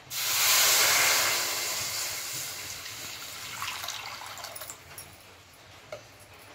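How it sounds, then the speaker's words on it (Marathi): Water is poured into a kadhai (wok) in a home kitchen; a loud, close rush of water at the start fades over a few seconds into faint trickles and small clinks. "इथे कढईमध्ये आपण पाणी घेऊया।"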